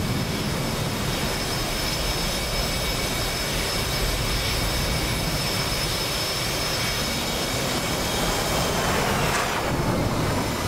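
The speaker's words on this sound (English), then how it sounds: "there's an F-16 coming in from high alpha pass." An F-16 fighter jet in the DCS flight simulator approaches to land after a high-alpha pass, giving a loud, steady engine roar that fills the whole clip with no talk over it.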